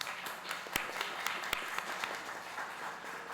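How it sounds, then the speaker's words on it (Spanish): Applause from the audience at a fashion and sustainability workshop, a steady patter of clapping from a modest crowd with a few sharper, closer claps standing out, lasting a few seconds without talk. "Un fuerte aplauso, por favor."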